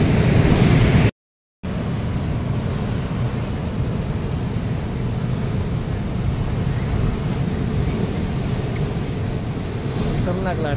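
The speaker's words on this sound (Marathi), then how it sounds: "खतरनाक लाटा ना, किती मस्त आहे ते. हा लाटांचा वेग बघा." Strong sea waves at Harihareshwar on the Maharashtra coast, heard as a constant rushing roar of surf mixed with heavy wind buffeting the microphone, loud and unbroken apart from a brief cut near the start.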